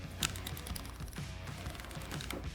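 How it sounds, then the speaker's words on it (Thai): Aperture ring of a Meike 35mm f1.8 Pro STM L-mount lens being turned, producing a run of small rapid clicks close up over a steady background hum. "ลืมให้ฟังเสียงคลิก"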